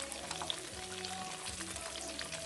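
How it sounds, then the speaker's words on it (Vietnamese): Banana pieces deep-fry in hot oil, giving a soft, steady crackling sizzle with scattered tiny pops, close and fairly quiet, with a low hum underneath. "chuối chiên nó phồng lên nè, mình chiên giòn á"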